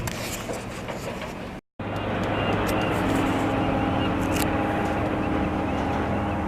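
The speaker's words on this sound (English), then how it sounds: "That's a helicopter taking off." A helicopter taking off near a pier, a steady droning rotor and engine hum with a rising tonal whine, moderately distant and continuous after a brief cut in the sound.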